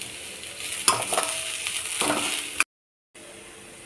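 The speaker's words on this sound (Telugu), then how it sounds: "సన్నగా తరుక్కున్నటువంటి ఆనియన్స్ని వేసి గోల్డెన్ బ్రౌన్ కలర్ వచ్చే వరకు కూడా మనం వేయించాలి" Finely chopped onions with green chillies, dried red chillies and cumin frying in a pan, a steady close sizzle with stirring scrapes, briefly cutting out before resuming.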